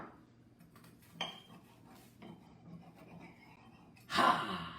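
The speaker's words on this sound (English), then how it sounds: "And then you're going to cut that sandwich" A knife cuts through a grilled cheese sandwich on a plate, with a few soft scrapes and clinks, then a louder burst of crunching and clatter near the end, close and quiet, with some breathing.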